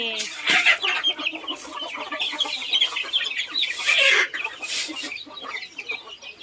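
Domestic hens and young chickens cluck and chatter continuously at close range on a farm, many birds overlapping in busy, uneven bursts.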